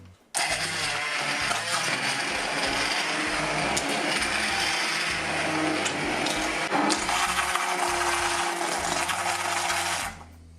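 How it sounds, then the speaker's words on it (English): A stick blender whirs loudly and continuously for about ten seconds blending roasted butternut squash soup, a dense grinding buzz with slight shifts in pitch as it churns, then cuts off. "in we go with the stick blender"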